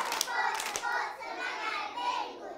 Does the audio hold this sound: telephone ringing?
no